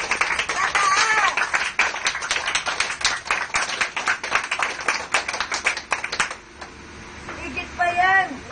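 A church congregation claps together in a dense, rapid patter for about six seconds while voices call out over it, then the clapping fades into quieter talk.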